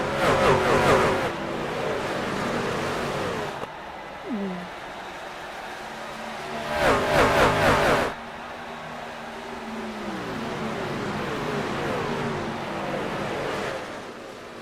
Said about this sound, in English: right now we watch these guys thunder their way around the racetrack